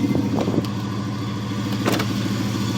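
A Chevrolet Cavalier with a knocking rod and a Flowmaster exhaust runs just after a slow-cranking cold start, a steady, close, low exhaust drone with a couple of brief sharp clicks and no talking.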